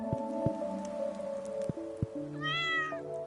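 Cat meows from the Stardew Valley farming game, a short series of mewing calls over soft steady background music, fairly clear and close.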